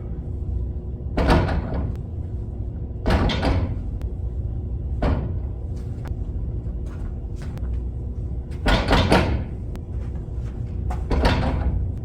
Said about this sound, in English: You could really only hear the rim shaking around.